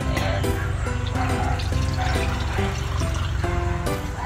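Plain tap water poured into a glass ahead of mixing a calamansi morning drink, a loud, close, continuous pouring stream with a bright gurgling fill, no talking.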